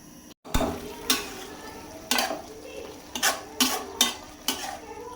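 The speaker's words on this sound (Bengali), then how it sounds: "সবজি কষাইতেছি" Vegetables being sautéed in a pot for khichuri, with a spoon scraping and clacking against the metal in irregular strokes over a soft background sizzle, close and fairly loud, with no talking.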